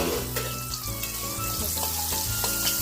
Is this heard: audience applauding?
no